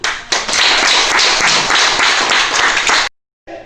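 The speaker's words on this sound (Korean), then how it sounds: "그 소녀를 위해서 우리가 박수." Audience applause breaks out at a talk or lecture, a dense, steady burst of many hands clapping for about three seconds, then cuts off briefly before resuming.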